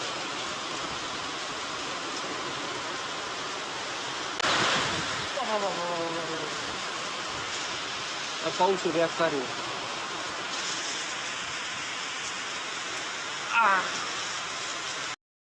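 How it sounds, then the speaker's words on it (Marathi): Dense steady hiss of downpour fills the clip, with a few brief spoken words and clattering splashes breaking through. "भयंकर पाऊस आलाय भाऊ"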